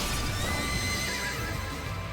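A horse whinnies in the video game Shin Megami Tensei V: Vengeance, a loud, wavering neigh laid over a low rumbling game backdrop, alone without talk.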